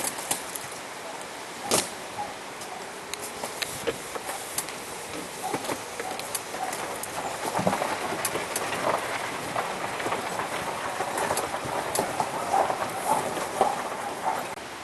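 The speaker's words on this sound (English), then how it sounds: "Raindrops on the golf cart window." Rain patters on a golf cart window as the cart rolls home, a steady scatter of light taps and sharp clicks over a rattling, rumbling ride, growing denser toward the end.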